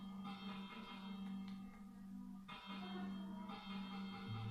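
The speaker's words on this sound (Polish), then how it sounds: "Ale wiesz, że ten dzwonek sprawia, że villagerowie się chowają do domu." A Minecraft village bell rings repeatedly in a steady rhythm, bright metallic tones with lingering overtones, fairly quiet and with no voices.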